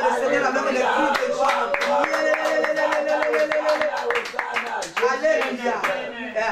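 A church congregation claps their hands in acclaim of the Lord during a French-language sermon, with rapid, steady claps under sustained voices and tonal sound throughout.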